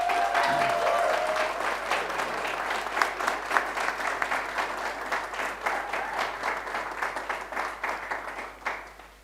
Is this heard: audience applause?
yes